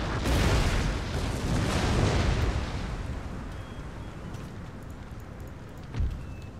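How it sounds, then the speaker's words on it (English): Artillery booms in the Empire Total War video game, a dense rumbling barrage that is loud at first and then fades, with one more distant thump near the end. "my foot artillery units are still open fire"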